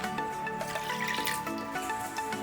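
Pre-measured water being poured for a homemade cough remedy with lemon juice and ginger, a short steady splashing trickle into a container in a kitchen, moderately quiet, with no talk.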